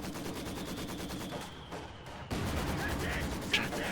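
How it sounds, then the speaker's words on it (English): Machine gun fire in the World War II strategy game Company of Heroes 2, a steady rapid stream of shots directed at units inside a building, loud and continuous with a short dip midway and other game sounds mixed in. "Machine gun engaging units in the building."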